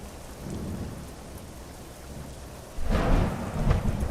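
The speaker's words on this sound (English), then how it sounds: "Let's get a closer look at this storm then." A thunderstorm in Euro Truck Simulator 2 brings steady rain hiss, then a loud, deep roll of thunder rumbles in close and holds through the final seconds.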